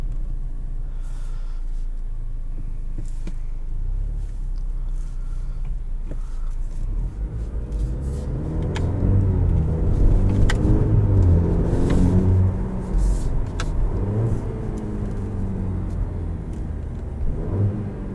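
A 2021 Cadillac CT4-V sedan is driven from inside the cabin, its engine rumbling low and steady before swelling louder as the car accelerates midway, then settling into a continuous drone.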